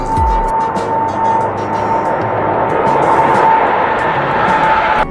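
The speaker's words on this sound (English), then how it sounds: "for aeroplane" An aeroplane engine drones steadily with a constant whining tone, holding loud and even for several seconds without talk.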